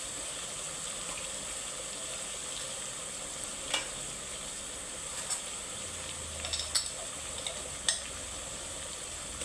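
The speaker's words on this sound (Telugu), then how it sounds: "ఇప్పుడు ఇందులో అల్లం వెల్లుల్లి పేస్ట్ వేసుకుందాం" Ginger garlic paste frying in a pan for Hyderabadi bagara rice, a steady close sizzle with a few sharp spatula clicks and taps scattered over it, no talking.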